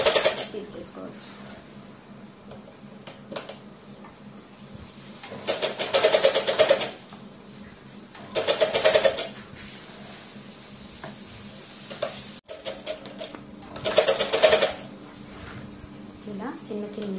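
A sewing machine stitches a long frock, probably cut from an old saree, in three separate loud bursts of running stitches. Quieter handling noise and low talk fill the gaps between the bursts.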